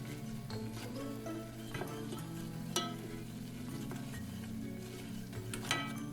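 A flour mixture browns in a pan with a soft, steady sizzle and occasional scrapes and taps of stirring, quiet and close with no voices.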